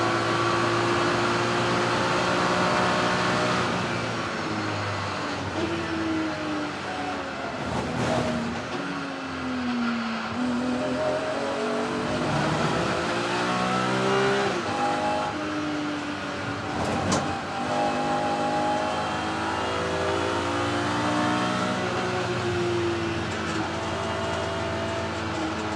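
BMW race car in a Kumho BMW Championship race at Snetterton 300, its engine droning loud and close from onboard, revs rising steadily with abrupt dips at each gear shift.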